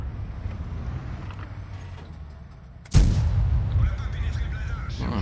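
A single heavy tank cannon blast in World of Tanks booms out abruptly and loud, followed by a sustained rumbling engine and battle din.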